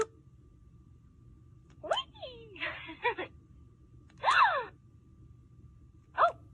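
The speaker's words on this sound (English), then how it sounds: "Like a gasping sound." A toy doll plays recorded gasping sounds when its button is pushed: four separate breathy, voice-like gasps and sighs with gliding pitch, spaced across a quiet background hum.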